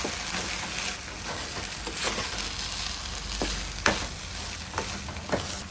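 Grated coconut is stirred into green pea upma frying in a pan, a continuous close sizzle broken by a few scraping strokes and spoon taps, with no voices.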